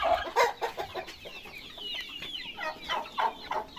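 Several roosters clucking and cackling close by in a steady, busy stream of short calls, with no talking.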